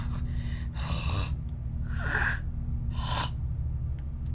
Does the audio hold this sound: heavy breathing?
yes